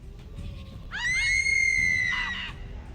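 A person screams in a long, piercing, sustained cry lasting about a second and a half, loud and close over a low murmuring crowd ambience in a town square.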